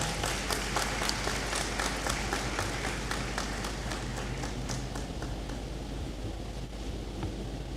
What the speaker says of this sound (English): Give Mr. Akoto a clap.